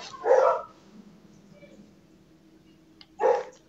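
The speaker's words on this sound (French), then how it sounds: "j'ai les chiens qui se battent là" Two short bursts of barking from dogs fighting through a closed gate, a few seconds apart, with quiet background between them.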